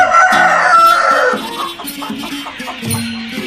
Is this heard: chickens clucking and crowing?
yes